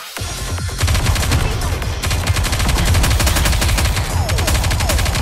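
Sustained heavy gunfire in the Nikke video game as enemy aircraft are shot down, rapid machine-gun bursts rattling continuously and loudly after a brief opening thump, dense and unbroken to the end.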